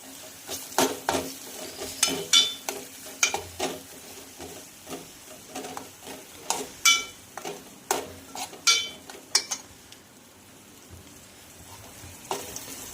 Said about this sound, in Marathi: तर बारीक चॉप केलेला कांदा घालणार आहोत। याला सुद्धा आपल्याला छान फ्राय करून घ्यायचं आहे।